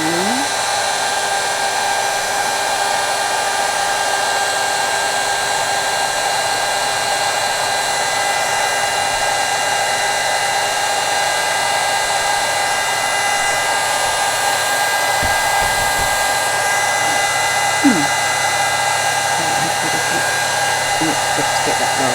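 A heat tool blows hot air over a craft piece during heat embossing, a steady loud whooshing drone running unbroken throughout with no talk over it.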